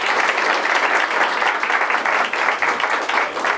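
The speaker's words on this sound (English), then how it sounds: "Nice round of applause." A large audience at a Federal Reserve campus lecture applauds steadily for a visiting speaker, a dense, even wash of many hands clapping with no gaps or talk throughout.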